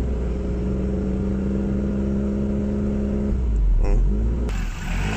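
A Seat Leon engine swapped into a Volkswagen revs high and loud at an unusually elevated RPM, with a suspected dirty throttle body, then the revs fall away abruptly near the end.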